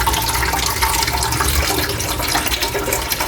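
Water pours steadily into a cooking pot of sour tamarind catfish soup, a continuous loud splashing rush with no talk.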